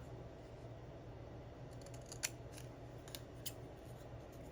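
Crisp snips of scissors trimming the margin of a paper craft piece, a few quick separate cuts close by over a low steady room hum.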